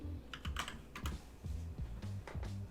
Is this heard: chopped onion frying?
no